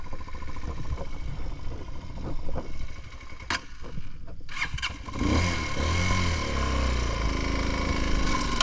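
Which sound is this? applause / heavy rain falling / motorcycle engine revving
motorcycle engine revving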